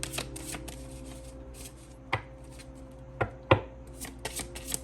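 A deck of oracle cards being shuffled, with quick riffling bursts and a few sharper slaps as cards are cut and tapped together, close and clear with no talking.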